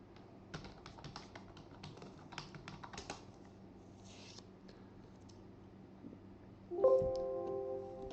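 Rapid keystrokes on a computer keyboard as an administrator username and password are entered, a steady run of close, crisp clicks with short pauses, ending in a louder sustained tone.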